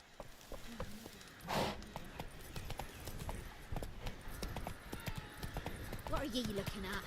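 Roach, the horse in The Witcher 3: Wild Hunt, clip-clops with steady hoofbeats through White Orchard, the repeated thuds sitting close and clear under a voice calling to the horse.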